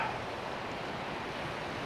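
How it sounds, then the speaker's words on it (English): A woodland waterfall pours in a steady, broad hiss of falling water, unbroken and moderately close, with no voices over it. "this is the waterfall"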